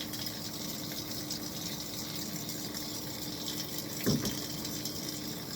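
Shower water runs in a steady, even broadband hiss, with one brief louder splash or clunk partway through.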